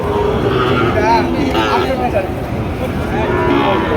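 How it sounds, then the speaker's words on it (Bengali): Sahiwal cattle low loudly and close at a livestock market, long drawn-out moos overlapping with a busy market murmur and people talking nearby. "এটা শাহিওয়াল জাতে গরু"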